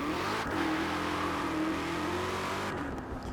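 A 2020 Ford Mustang Shelby GT500 revs in Forza Horizon 4, a loud, steady engine drone with rising and falling harmonic tones, close and continuous, with no talking over it.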